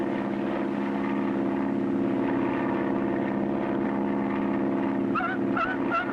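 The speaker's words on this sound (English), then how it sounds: "the only way he can bring his plane down on the water with one float is to make a high-speed power landing" A cartoon propeller plane on one float roars steadily in a sustained, loud droning buzz, making a high-speed power landing on water, with a few brief higher tones breaking through near the end.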